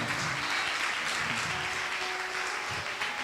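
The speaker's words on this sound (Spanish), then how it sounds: "Claro, dale fuerte ese aplauso." A church congregation applauds during a sermon by Apóstol Carlos Contreras, a dense, continuous wash of clapping at even volume throughout, with faint voices underneath.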